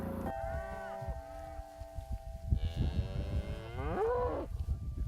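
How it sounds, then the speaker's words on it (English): Cattle moo repeatedly, several long drawn-out calls overlapping in a grazing paddock, fairly near and loud over a steady low rumble, with no talking. "The cattle readily move into a new paddock because they always know they're going to get a fresh bite of grass"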